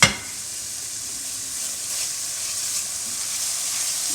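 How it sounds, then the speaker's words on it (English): Diced onion and minced garlic sizzle steadily in a hot frying pan, a bright continuous hiss that stays even and close for the whole stretch after a brief louder burst at the start, with no talking. "You hear that nice sizzle?"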